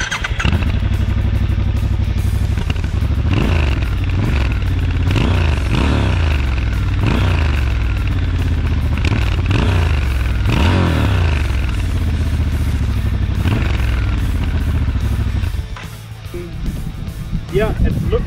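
A 2019 Triumph Scrambler 1200 XC parallel-twin engine runs loud and close with repeated revving swells, its throaty exhaust note rising and falling, before dropping near the end; a voice talks over it.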